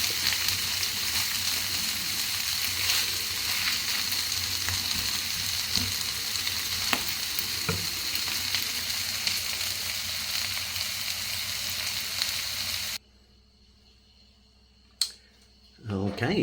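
Corned beef hash frying in a pan, a loud continuous close sizzle and crackle with occasional scrapes for about thirteen seconds, then near silence with a brief clatter at the end.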